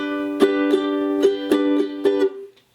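A ukulele strums a song: about six bright, crisp strokes in an even rhythm, close and clear, with the last chord ringing out and fading to silence.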